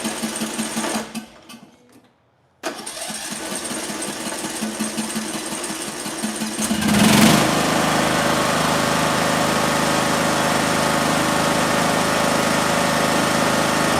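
A small engine with a fault in its coil air gap runs rough and barely keeps going after choking. A sputtering start cuts out to near silence, then a steady, buzzy, close drone that swells briefly before settling, with no talking.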